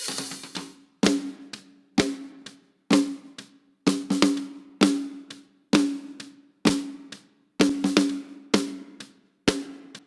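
Second snare drum in a live drum setup, played without a trigger, with crisp, fairly loud strikes carrying a ringing tonal body and decaying tails, arriving in an uneven groove of single hits and quick doubles with no voices.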